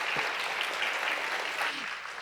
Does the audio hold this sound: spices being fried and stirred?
no